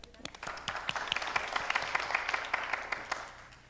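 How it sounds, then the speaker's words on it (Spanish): Applause from the audience at a Fuckup Nights Colombia event on public innovation, individual claps clearly distinct as a modest crowd claps steadily, fairly close and moderately loud, building then easing slightly. "un aplauso para ustedes y para ustedes"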